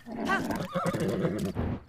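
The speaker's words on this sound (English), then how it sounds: "A horse is a horse, of course" A horse lets out a loud, close whinny, a rising and wavering neigh with breathy snorts in between and a brief low thump near the end.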